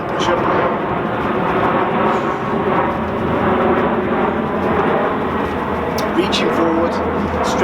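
An airplane passes overhead during an outdoor workout, giving a broad, continuous roar that stays steady in the background while a person talks over it.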